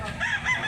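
A brief fragment of crowing from a green-legged mountain rooster at a Cebu chicken market, a short wavering call close by over a low background rumble.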